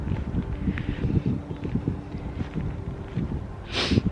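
Wind buffets a microphone outdoors as a steady, low rumbling roar that stays fairly even throughout, with a brighter gust swelling near the end and no voices.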